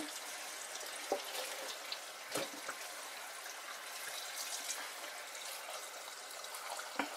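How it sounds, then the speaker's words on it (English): Steady running water from a kitchen faucet while a raw turkey is washed in the sink, a continuous splashing stream with occasional louder splats and drips. "we're going to continue washing this turkey"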